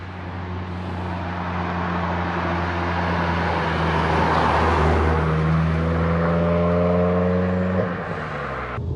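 Renaultsport Clio 197 F1 R27 hatchback pulls away, its engine droning loud and steady from inside the car, with rising tones as it accelerates through the gears before easing off at the end.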